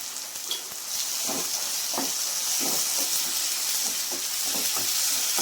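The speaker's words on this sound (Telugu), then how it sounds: "అల్లం తెల్లగడ్డ పేస్ట్ కూడా పచ్చివాసన పోయేంత వరకు ఫ్రై చేసుకున్నాము" Ginger garlic paste fries in a pan for chicken handi, with a steady close sizzle and hiss broken by soft, regular stirring scrapes and no one speaking.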